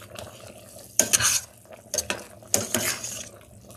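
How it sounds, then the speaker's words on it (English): Beef stew stirred in a pot with a spoon, three bursts of scraping and clinking against the pot over a low simmer, close and unvoiced. "and we're gonna stir"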